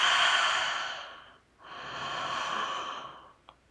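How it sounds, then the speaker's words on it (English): Two long, breathy exhales through an open mouth, each an airy ha-like rush, with a brief pause between them and a small click at the end. "exhale, create that ha sound out the mouth"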